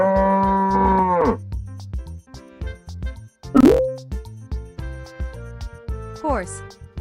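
Cow mooing: a long, loud, drawn-out low moo, followed by shorter bursts of other sounds.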